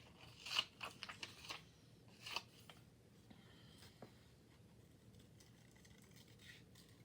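Scissors snipping through crossword newspaper paper for a collage: a few crisp, quiet cuts close to the microphone in the first half, followed by faint rustling and soft handling of the paper.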